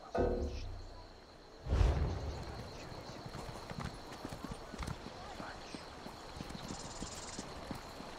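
Horse hooves clip-clop in steady rhythm through the video game Elder Scrolls Online, moderately loud, with a sharper thump near the two-second mark and some faint game ambience behind.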